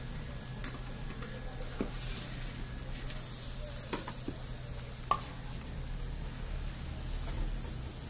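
Radish and ghevda cooking in a pan without oil give a faint, steady sizzle broken by scattered sharp ticks and clinks from stirring, with no voices.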